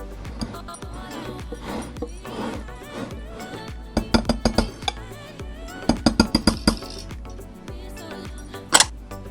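All-purpose flour, salt and baking powder being mixed in a bowl for chocolate chip cookies, close clinks and rapid tapping bursts of a utensil against the bowl, clustered in quick runs, with a sharper knock near the end.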